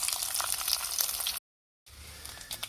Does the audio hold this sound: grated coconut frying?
yes